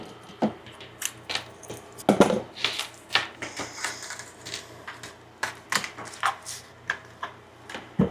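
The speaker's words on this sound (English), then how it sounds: "Wait, I actually need to cut 3 pieces because I need to know the size for future reference" Pink fabric scissors snipping through fabric pieces, a quick series of close, crisp cuts and clicks in an irregular rhythm with no voices.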